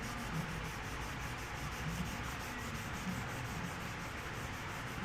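Steady, close rubbing of sandpaper scratching back and forth over a paint run's edge, continuous and fairly quiet, with no voices.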